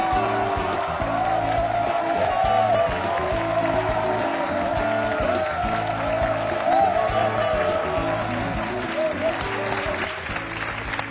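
A talk-show audience applauds and whoops as a young market entrepreneur walks on stage: loud, sustained crowd clapping and cheering for over ten seconds, with music playing underneath.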